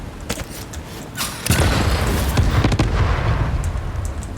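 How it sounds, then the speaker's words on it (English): Explosions in the Satisfactory video game: a burst of booming, crackling blasts starts about a third of the way in and rolls on loudly, with scattered sharp pops before it. "that's the reason why I have explosions automated in the first place"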